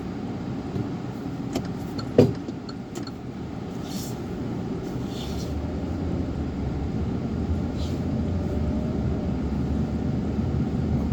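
Rental Kia car cruising at the speed limit on a Puerto Rico highway, a steady low road and engine rumble from inside the cabin, with a few small clicks and a brief knock early on, no voices.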